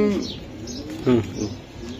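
Club pigeons for sale coo in short, soft, throaty bursts close by, a few calls spaced across the moment, with a voice speaking faintly in the background.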